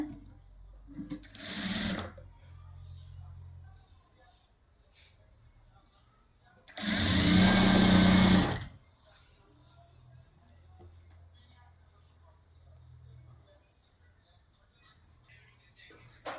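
Sewing machine stitching a Katori blouse: a short whir early on, then one clear run of steady motorized stitching lasting about a second and a half, set between stretches of someone talking quietly.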